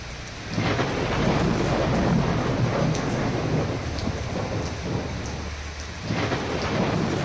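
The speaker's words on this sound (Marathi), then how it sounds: "मरणी पाऊस पडतो" Heavy rain pours down over farm fields in a dense, constant hiss, with low rumbles of thunder rolling beneath it.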